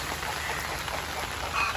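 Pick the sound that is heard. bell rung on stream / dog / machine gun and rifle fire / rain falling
rain falling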